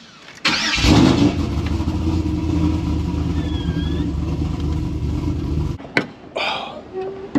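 An iron-block LQ9 V8 with an aggressive cam, taken from an Escalade and fitted in a Silverado, cranks and catches, then idles loudly with a choppy, lopey rumble before cutting off; a few voices speak briefly near the end.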